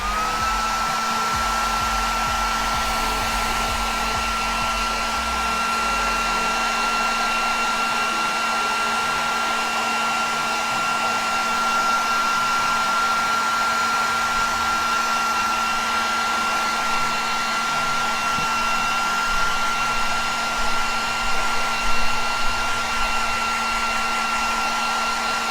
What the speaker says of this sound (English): I'm going to pull this off camera for a second and just run my blow dryer over it